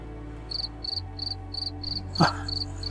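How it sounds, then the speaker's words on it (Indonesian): Crickets chirp in a regular series of eight short, bright pulses over a low steady hum, with a brief sharp knock partway through. "Ada suara jangkrik ya."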